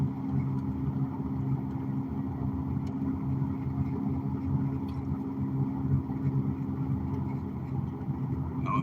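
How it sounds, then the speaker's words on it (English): A pickup truck driving along, a steady loud low rumble of engine and road noise from inside the cab, continuous without breaks and with no one talking. "it might be my truck that's making that noise"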